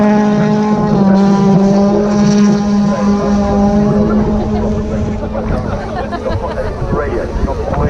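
Rally car at Wales Rally GB 2018, Tir Prince stage, its engine giving a loud sustained rasping note that falls as the car drifts and brakes, with crowd noise and commentary over it.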